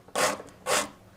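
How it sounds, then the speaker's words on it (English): Hand file rasping across a wooden spindle being trimmed to fit a dowel plate: two firm, close strokes with a short pause between, then the start of a third. "using a file here to take this back"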